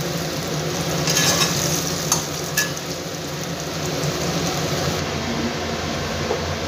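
Onions fry in a pan until browned for a Bengali lentil dish, giving a steady, close sizzle with a few soft stirring scrapes and no talking.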